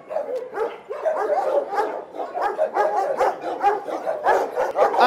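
Several service dogs at a training kennel bark continuously and loudly, overlapping yaps and barks filling the air with hardly a pause, nearby and with no voices over them.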